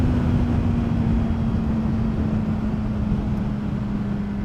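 A Honda CBR600RR motorcycle at full throttle, its engine holding a strong, steady drone with a clear tone that climbs slowly while it winds up, heard up close.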